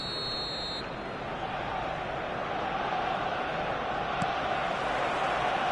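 Stadium crowd on match day in the eFootball 2026 video game, a steady, dense roar of many voices filling the whole stretch, with a brief high electronic tone at the very start.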